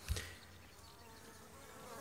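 Honeybees at a weak hive with little flight activity, a faint, steady low buzzing after a brief soft knock at the start.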